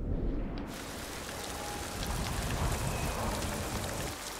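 Steady rain falls in the video game Ghost of Tsushima, a dense, constant hiss of drops on surfaces that swells in after a quiet start and holds evenly throughout.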